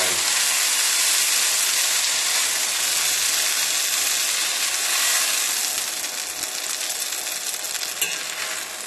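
Sausage-stuffed lavash frying in a pan, giving a steady broadband sizzle with a faint crackle throughout that eases slightly near the end.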